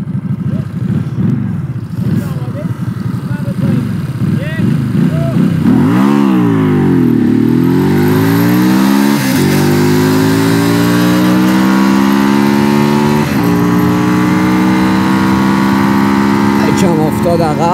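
Pulsar RS200 and Keeway V302C motorcycles in a drag race, engines revving hard and close with rising pitch sweeps that break at each gear shift, then settle into a loud, sustained high-revving drone.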